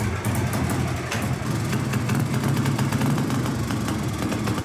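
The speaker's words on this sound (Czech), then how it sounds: "Výfuk je jenom zastrčený, takže proto vlastně má takový ten prskavý zvuk" A vintage Simson motorcycle engine runs with a loose, merely plugged-in exhaust, giving a steady, close, uneven sputtering drone that holds throughout with no pauses.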